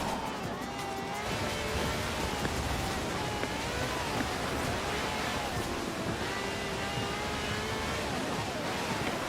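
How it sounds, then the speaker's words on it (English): A V12 engine of over 750 horsepower in a cab car in Forza Horizon 4 roars loudly and steadily, its pitch rising and falling through gear changes over a dense rushing background. "This has a V12 with over 750 horsepower"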